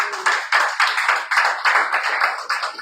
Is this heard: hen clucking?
no